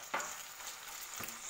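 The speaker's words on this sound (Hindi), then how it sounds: "और अभी मैं चिकन डाल दूंगी।" Chicken frying in a little oil gives a brief, even sizzle with two short stirring scrapes, faint and close, without speech.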